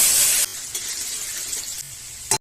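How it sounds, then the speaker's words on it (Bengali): Potatoes frying in hot oil with cumin seeds, a dense steady sizzle that drops in intensity after a short burst at the start and cuts off at the end, with no voices. "এখন আলু কটা ভেজে নেব"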